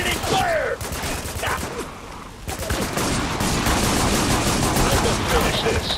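Sustained automatic gunfire from the shooter game Spec Ops: The Line, a loud, dense rattle of shots running almost the whole time with a brief dip, and voices calling out over it.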